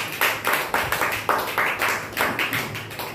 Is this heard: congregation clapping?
yes